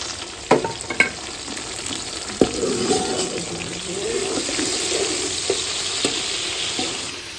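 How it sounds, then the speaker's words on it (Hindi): Onions fry in a pan in a village kitchen, a soft steady sizzle with occasional sharp clinks and scrapes from stirring, fairly close and moderate in level. "माशाल्लाह जबरदस्त प्याज भुनाई हो चुके थे, बिरौन हो चुके थे"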